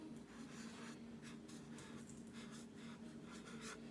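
Pen or pencil writing on paper, a soft, close scratching in short repeated strokes across a few seconds, heard alone without talk.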